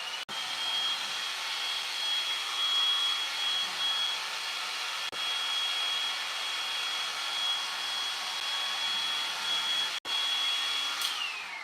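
A hair dryer blowing over freshly painted flowers, a steady, loud, close whooshing hum that runs without a break, with a couple of faint clicks and a thin high whine above it.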